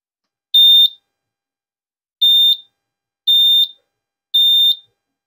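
A CrossFit box timer buzzer sounds four short, sharp, high-pitched electronic beeps, the first set apart and the last three evenly spaced, with silence in between.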